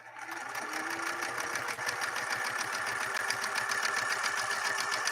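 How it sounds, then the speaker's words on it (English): A Singer Merritt 1872 sewing machine running steadily while sewing a quilter stitch, a fast even mechanical chatter with a whirring motor tone, close and loud throughout. "so we're doing a quilter stitch now, a quilter stitch."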